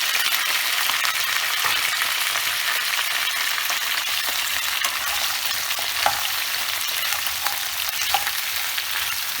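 Okra sizzles and crackles steadily in a hot pan, a continuous frying hiss with occasional soft stirring scrapes and no voices.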